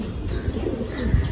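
Pigeons at a pigeon market give soft, throaty coos and a few small chirps, close by and irregular, over low background murmur.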